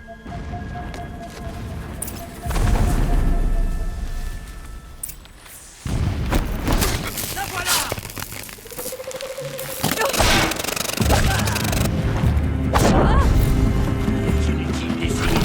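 Explosions boom in the video game Horizon Zero Dawn, heavy blasts and rumbling impacts erupting repeatedly over a noisy mechanical din, with a brief whooshing sweep partway through.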